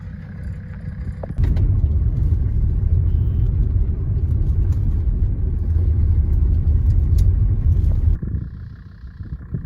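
A W123 diesel Mercedes driving in winter toward Alaska on a frost-heaved road near the Canadian border: a loud, steady low rumble of engine and tyres for most of the stretch, quieter at the start and end.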